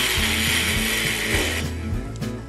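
A battery-powered cordless drill with a diamond bit engraves a glass bottle, a loud continuous whine with grinding, rattling contact that pulses and shifts as the bit moves over the glass.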